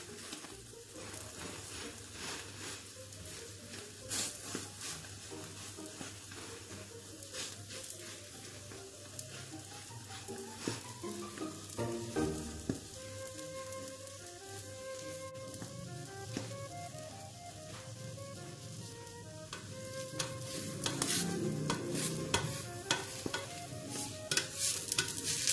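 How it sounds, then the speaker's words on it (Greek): An omelette frying in a pan on a stove turned down low, with a steady close sizzle and occasional scraping and stirring sounds, no voices. "Γυρνάμε την ομελέτα"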